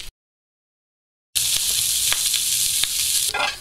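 Shrimp sizzle on a hot grill for a Caesar salad, a steady close, bright hiss after a short silence, with a few crackling pops and no talking.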